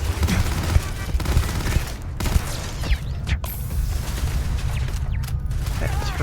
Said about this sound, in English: That turret is still going.